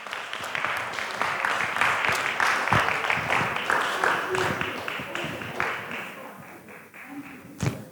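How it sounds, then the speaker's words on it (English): An audience applauds at a poetry festival closing ceremony, steady clapping with some cheering voices, fairly close, ending with a couple of sharp thumps near the end. "Let's just give an applause."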